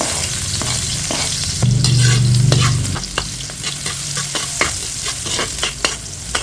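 Chopped onions hit hot oil in a pan for chicken afritada and sizzle, then a spatula stirs and scrapes them in repeated close clatters over a steady frying hiss.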